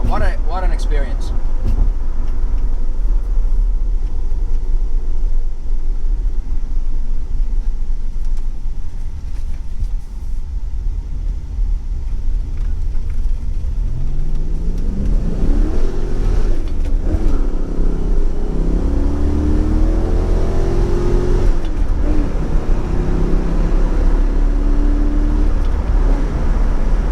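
A 1993 Ford Mustang SVT Cobra drives along with a loud, steady road and engine rumble from inside the car, then the engine revs up in rising sweeps as it accelerates.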